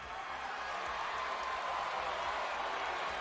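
Wrestling arena crowd cheering, a loud, steady roar of many voices that fills the whole stretch without letup.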